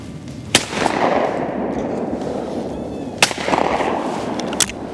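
Shotgun fired at sporting clays targets outdoors: three sharp, loud blasts spaced a few seconds apart over steady background ambience.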